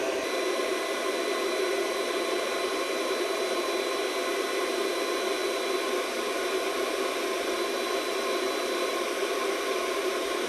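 A 1500W, 110V magnetic induction heater, used on rusty nuts and bolts, runs with a steady, even whoosh and high hiss that hold level throughout without pause, close and fairly loud.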